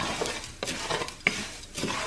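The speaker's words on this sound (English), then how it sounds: "Now I gotta stay right here and keep stirring" Mexican rice being stirred in a hot pan, a steady scraping and soft sizzle with a few sharper clinks of the utensil against the pan, close and fairly quiet.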